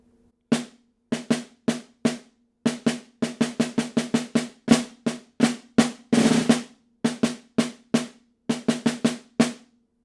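Snare drum playing the opening three measures of an all-region etude: crisp close strokes in varied rhythms with accented hits, quick sixteenth-note clusters and a short roll in the middle, played alone.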